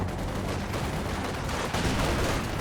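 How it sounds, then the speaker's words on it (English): A Company of Heroes 2 2v2 battle with a mortar firing on a bunker, heard as continuous dense gunfire and explosions that form a thick roar with a few louder blasts. "Mortar targeting the bunker"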